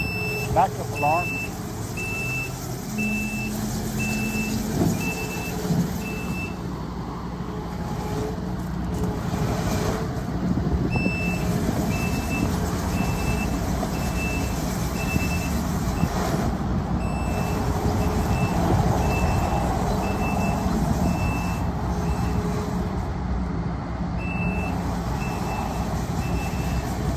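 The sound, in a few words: backup alarm on Kubota SVL97-2 track loader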